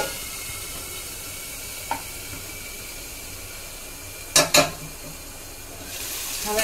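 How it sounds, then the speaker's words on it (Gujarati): Tomatoes cooking in a pan with oil for Kathiyawadi papad vada, a steady hissing sizzle throughout, broken by a few sharp utensil knocks and a brief scrape near the end. "હવે આપણે સરસ મજાનું હલાવી અને મિક્સ કરી દઈશું."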